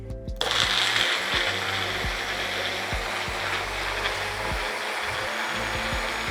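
A blender grinds fresh herbs into chutney, a steady loud motor whir with a low hum and repeated thudding pulses as the blades churn throughout.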